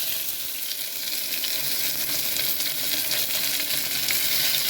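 Sliced onions fry in hot oil for chicken curry, giving a steady, bright sizzle that crackles continuously at close range with no voices.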